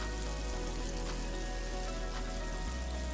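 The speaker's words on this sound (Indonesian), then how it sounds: "Kita tumis." Chopped onion sautéing in oil in a pan, a steady, dense sizzle with a faint low hum underneath, no talking.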